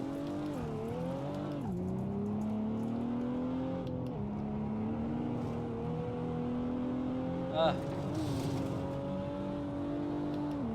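A Supra race car engine in the Assetto Corsa racing game at Buttonwillow drones steadily for the whole stretch, its pitch dipping and climbing through gear changes and throttle lifts, with one brief sharp blip midway and no voices.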